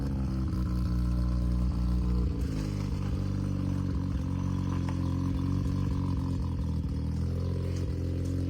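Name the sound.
Mazda RX-7 engine idling with new exhaust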